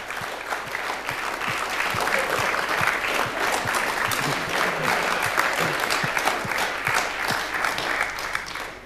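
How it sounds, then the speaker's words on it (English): A room full of people giving a warm round of applause to standing volunteers in green shirts, steady dense clapping close and continuous for the whole stretch. "give them a warm round of applause"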